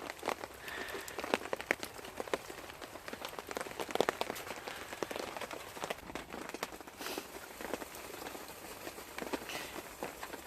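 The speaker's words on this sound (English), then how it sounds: "Taking advantage of the rain." Rain falls steadily on a bushcraft camp shelter outdoors, a continuous patter with scattered sharper drops and irregular taps throughout, with no talking.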